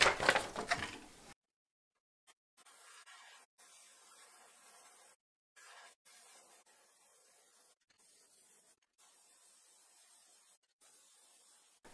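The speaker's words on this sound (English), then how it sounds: "we're gonna spray the belly white again as well" Soft hissing airbrush spray bursts of white paint onto a fishing lure repeat with short pauses between them, faint and steady, following a brief louder rustle at the start.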